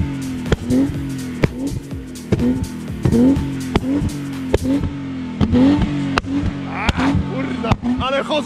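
Tuned BMW M52B25 straight-six revs repeatedly in sharp blips, each throttle release followed by crackling exhaust backfire pops, loud and close, with people talking over it.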